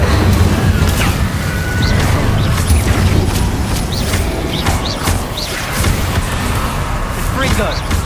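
Incendio fire spell cast in Hogwarts Legacy amid a noisy battle, whooshing bursts and impacts over constant rumbling game sound, with someone speaking throughout.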